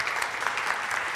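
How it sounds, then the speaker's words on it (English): Audience applause fills the room steadily for just over a second, a dense, even wash of clapping with no voices on top. "Would you please give her a round of applause?"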